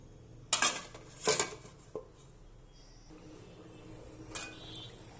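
A metal lid is set onto a cooking pot with two sharp clanks close together, followed by a smaller tap and one more clink against a quiet kitchen background.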